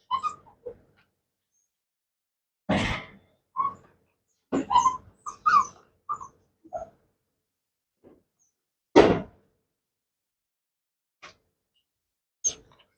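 Scattered short puppy whimpers and yelps, some high and thin, come in separate bursts with silent gaps between them. The sounds are close, with no talking.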